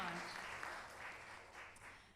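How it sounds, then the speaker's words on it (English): Faint, distant applause from an audience at a children's charity event lunch, a soft, even patter of clapping over a short moment. "Let's give a round of applause to the group of people that put on the lunch"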